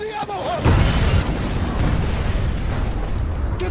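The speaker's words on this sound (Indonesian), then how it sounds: "Patrick kembali dikejutkan dengan serangan mortir yang dilancarkan musuh untuk menyasar gudang" A mortar shell explodes in a wartime film: a heavy, close boom bursts in around half a second, followed by a long rumbling, crackling decay of debris and noise that stays loud to the end.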